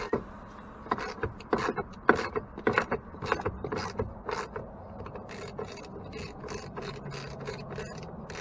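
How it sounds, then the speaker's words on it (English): Rapid, uneven clicking of a ratchet, close but fairly quiet, comes in bursts of strokes with short pauses while bolts for grab handles on a 2015 Jeep Wrangler are turned. "the ratchet twists it in the way that you have it set"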